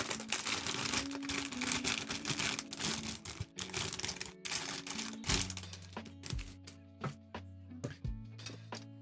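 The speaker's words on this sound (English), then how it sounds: "You like that crinkling plastic?" Close crinkling and rustling of plastic packaging while unpacking a 1994 Magnum Saber mini 4WD model kit, dense crackles at first, then sharper separate clicks and taps.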